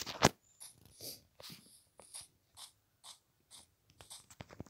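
A female dog whimpers and yelps in short, high-pitched bursts close to the microphone, a sharp cry at the start followed by repeated softer whines at a steady pace.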